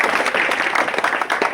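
An audience at a Bahujan gathering applauds in honour of women, a steady, close, dense patter of many hands clapping without pause through the short stretch.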